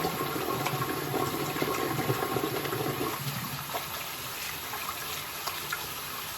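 Water runs steadily from a tap while hands are rinsed of sticky sap, a continuous close splashing rush that thins a little partway through.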